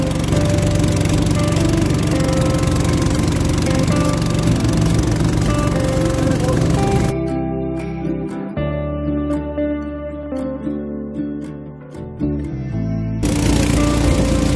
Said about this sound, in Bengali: আমাদের নৌকাও চলা শুরু হয়ে গেছে